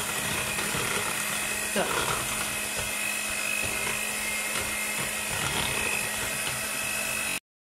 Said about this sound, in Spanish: Batimos. Estamos mezclando todo bien.